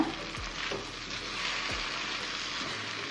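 Mushrooms frying with half-cooked tomatoes in a pan, a steady soft sizzle with a couple of scraping stirs.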